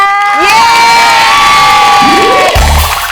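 A studio audience at a Thai television variety show screams and cheers loudly and continuously, with a bright electronic musical sweep running through the noise.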